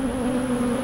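Close, steady buzzing of honeybees at a beehive, a low humming drone holding constant throughout the short moment.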